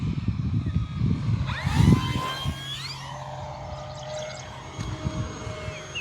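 An E-flite F4U-4 Corsair V2 1.2 m electric RC plane makes a high-speed pass, its motor whine rising and bending in pitch as it approaches, then fading with distance, over outdoor wind noise.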